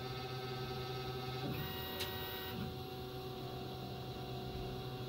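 An EMCO Concept Turn 60 CNC lathe cutting plastic gives a steady machine hum with tonal whine, a brief shift in pitch as the tool begins to cut, then a continuous close drone.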